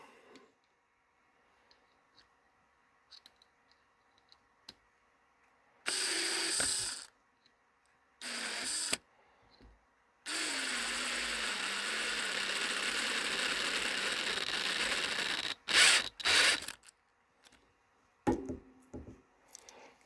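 Power driver tightening the mount of a Vevor 12-volt diesel heater pump, heard as several short whirring bursts and one long steady run of about five seconds, close and loud, with quiet gaps between and no talking.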